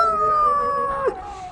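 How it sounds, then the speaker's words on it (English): A singing dog howls a long, steady tonal note that wavers and then breaks off near the end, close and clear with no talking. "how else do you get a dog to sing like that?"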